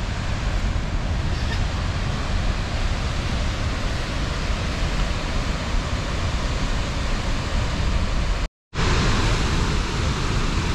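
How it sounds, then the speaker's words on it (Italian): A powerful waterfall in Iceland roaring as a loud, continuous broadband rush, broken only by a brief dropout near the end. "Ora vi faccio vedere la cascata."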